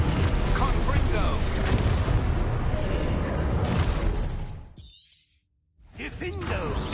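Confringo blasting spell in Hogwarts Legacy: a loud shattering explosion with rumbling booms and debris crashing for several seconds, then a sudden brief silence before the combat noise resumes, with a voice speaking over it.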